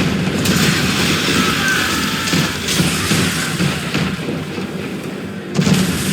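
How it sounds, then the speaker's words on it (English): Man-of-war warship cannon fire in Assassin's Creed 3, a dense, continuous barrage of low booms and rumbling blasts under a sustained roar of naval battle, with a heavier thump near the end. "We're under attack! Man of war's firing!"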